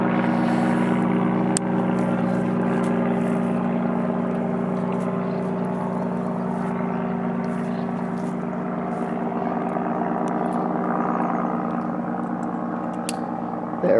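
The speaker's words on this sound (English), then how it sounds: "The plane is flying away, so we don't hear it like we did a moment ago." A continuous low drone of an airplane overhead, steady and somewhat distant, slowly easing as it moves away.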